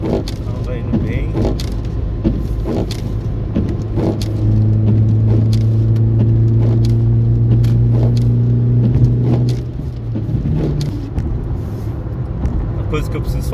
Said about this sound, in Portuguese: Eu tô de quinta marcha, de quinta vai indo bem.